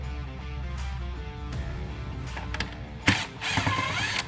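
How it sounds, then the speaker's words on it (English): A ratchet loosens the big screws on a 2020-2022 Ford F250 Morimoto headlight housing, with low mechanical clicking and handling noises building to a sharp knock and a short stretch of close grinding ratchet sound, no speech. "This one looked like it just needs just the big screws to come out."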